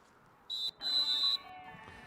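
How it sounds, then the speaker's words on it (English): A sharp whistle signals the start of a bike race, two quick piercing blasts, the second held longer, faint against quiet background. "And that whistle clearly signifying the beginning of the race."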